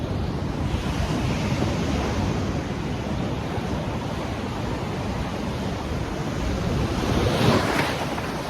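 Ocean waves at Kuta Beach in Bali wash in a constant broadband roar mixed with wind buffeting the microphone, swelling louder near the end as surf rushes closer.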